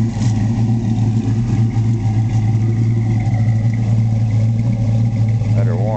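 A 1965 Mustang coupe, fresh from body shop paintwork and unused for about a week, idles while warming up: a loud, steady, close low-pitched engine rumble that holds even throughout.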